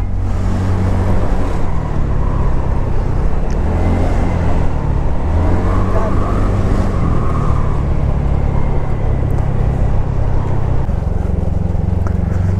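Heavy road traffic heard from a TVS Ntorq 125 scooter in motion, a dense, loud and steady roar of cars and engines with constant wind rumble and no clear breaks.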